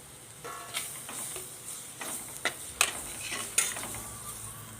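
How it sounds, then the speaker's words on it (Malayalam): Soft sizzle in a pan with several sharp scraping and clinking stirs of a utensil at irregular intervals, close and fairly quiet. "തക്കാളിയൊക്കെ ഒന്ന് നന്നായിട്ടൊന്ന് വഴന്ന് വരണം"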